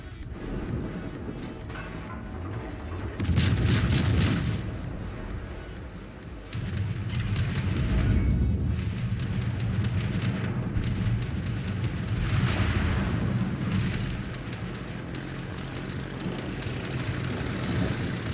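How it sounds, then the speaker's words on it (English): Aircraft engines in the naval battle game World of Warships make a loud, dense roar that swells and falls in waves, with sustained rumbling and hissing throughout. "sound effect from the planes is pretty cool, although it's almost overwhelmingly, like too much."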